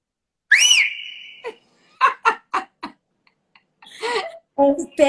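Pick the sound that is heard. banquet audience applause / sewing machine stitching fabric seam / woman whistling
woman whistling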